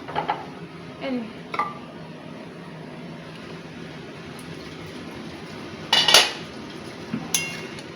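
Spoon scraping and clinking in a pot of dal after water is added, a few scattered metallic knocks and a brighter clatter near the end over a quiet background.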